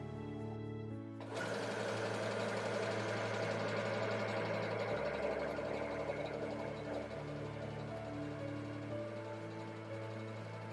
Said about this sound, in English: you simply just press your foot pedal and your machine will sew the buttonhole